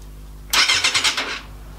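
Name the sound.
motorcycle starter motor cranking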